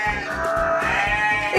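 A goat bleats loudly and close by, giving a few wavering, nasal calls in quick succession.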